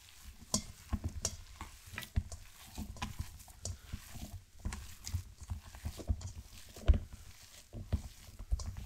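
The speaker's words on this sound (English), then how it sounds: "A generous pinch of salt, and then we can start mixing. All right, let's mix this meat." Minced meat being mixed by hand with a generous pinch of salt, giving soft wet squelching and slapping pats in an irregular rhythm, close and fairly quiet, with no talking.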